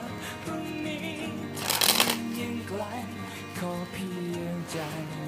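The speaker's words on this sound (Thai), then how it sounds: "ลองมาดูการ ตัดไพ่สักหน่อยแล้วกันนะครับ" A Bicycle Arcane playing card deck shuffled close up, a quick riffle burst of flicking cards in the middle, with someone talking throughout and music playing underneath.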